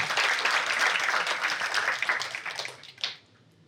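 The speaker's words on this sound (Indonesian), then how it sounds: "Kasih tepuk tangan buat Tuhan." Church congregation at an online worship service clapping loudly and steadily, the applause thinning out near the end with a few last claps before fading away.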